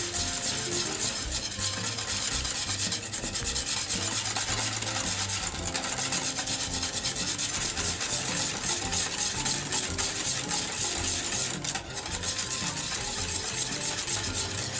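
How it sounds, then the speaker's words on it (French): Choux pastry mixture is stirred continuously in a pan as it heats and thickens, giving a steady scraping, swishing rhythm with a faint sizzle and no voices. "On remue bien partout pour éviter que ça crame."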